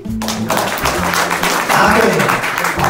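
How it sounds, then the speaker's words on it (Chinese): An audience claps together in sustained, dense applause throughout, fairly loud and close, with scattered sharper individual claps. "掌声鼓励！"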